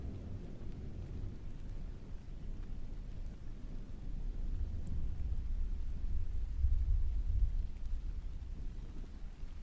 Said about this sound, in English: It's been raining for months.